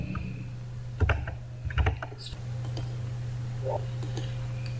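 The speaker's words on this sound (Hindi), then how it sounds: "इसको हम लोग यहाँ पे टाइप करना होता है" Fingers typing a command on a laptop keyboard: a few scattered clusters of soft key clicks over a steady low electrical hum, close and fairly quiet, with no speech.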